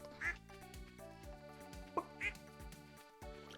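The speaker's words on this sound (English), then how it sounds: "Hello, duck." A duck in Stardew Valley quacking twice, short nasal calls, over the game's steady plucked background music with a soft blip between them, fairly quiet.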